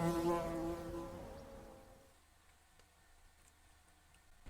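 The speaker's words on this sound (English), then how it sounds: "Wow, that was a big ass bee" A large bee buzzes close by with a loud droning hum that fades away after about two seconds, leaving a quiet room with faint ticks.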